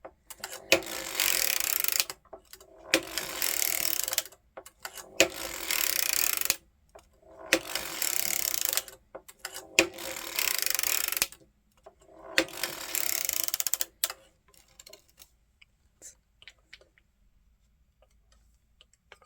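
Circular sock machine knitting short socks with a stacked hung hem, six bursts of rapid mechanical clattering and ticking separated by short pauses, then fading to scattered faint clicks.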